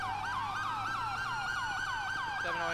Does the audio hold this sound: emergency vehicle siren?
yes